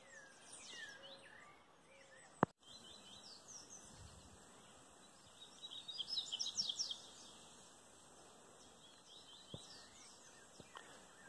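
A caged coleiro seedeater sings a faint burst of quick chirps in the countryside, over a soft background of insects and rustling, with a couple of sharp knocks.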